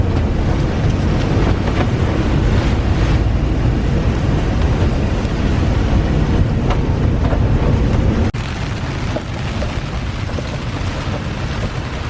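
Strong 40-knot wind roars steadily and loudly across the microphone while sailing in rough seas, with dense buffeting and a brief drop in intensity near the end; no voices.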